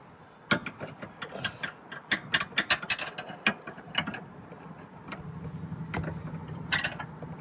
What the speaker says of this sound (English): there's enough room, and you can actually use a wrench on the top